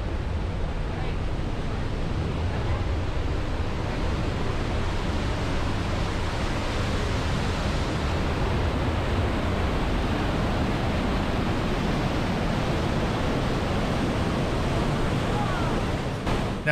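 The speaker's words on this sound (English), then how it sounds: "there's a little tunnel you go through the mountain and you get a close-up view of the falls" Lower Falls waterfall near Banff, heard up close from a tunnel viewpoint through the mountain; a dense, unbroken roar of falling water, loud and steady throughout with no pauses.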